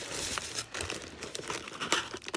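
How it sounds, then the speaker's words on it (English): Close, continuous crinkling and tearing of cardboard and packing material as a box is pried open, busy and scratchy throughout. "These boxes are so hard for me to open."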